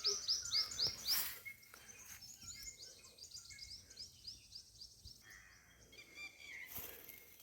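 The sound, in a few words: birds calling in the morning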